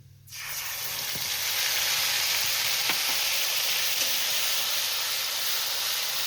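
Ground ginger, cumin and green chili paste hits hot oil for a Bengali cabbage ghonto, bursting into a loud, steady sizzle that holds for several seconds with a few faint clinks.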